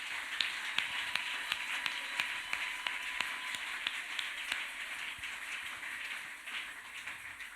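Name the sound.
church congregation applauding as an offering of acclamation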